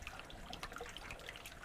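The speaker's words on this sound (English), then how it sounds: "You can hear the bubbles." Soft bubbling and gurgling water from an aquarium air pump in an aquaponics setup, faint and close, with small irregular pops and trickles throughout.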